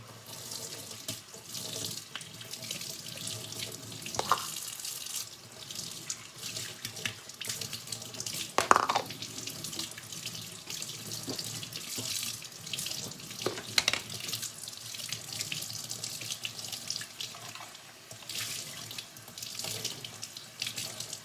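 A baby bottle is rinsed under a running kitchen tap, with a steady splash of water and a few brief clinks of plastic against the sink.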